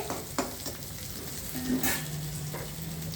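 Bitter gourd pieces fry with curry leaves over a low flame, a steady crackling sizzle with intermittent stirring scrapes and pops, close and without speech.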